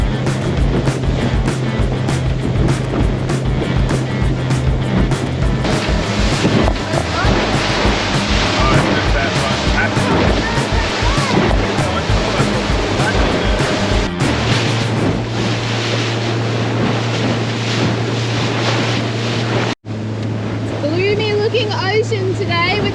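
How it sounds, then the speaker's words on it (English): Ocean surf washing steadily off Australia as a cyclone passes, with heavy wind rumble and a low engine drone, as if heard from a moving boat; a voice talks briefly over it. "You can see the surf break there."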